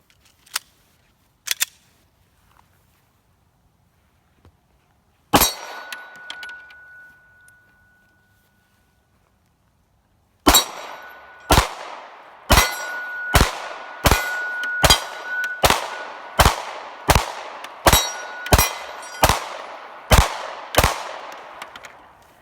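A Walther Creed pistol is test fired: a few isolated shots come first, then a fast, steady string of about a dozen loud, sharp reports, each followed by a short ringing decay, with no talking.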